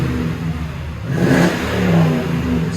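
A 2010 Toyota Tundra with a 5.7L V8 and a Flowmaster Super 50 exhaust revs once, its low exhaust note rising midway and then settling back to idle.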